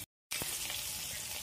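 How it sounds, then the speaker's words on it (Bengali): Pieces of kakrol (spine gourd) fry in hot oil with a steady, close hiss and crackle that starts suddenly after a brief moment of silence and then holds an even level. "কাঁকরোলটা আমার ভাজা হয়ে গেছে, খুব ভালোভাবে ভেজে নিয়েছি"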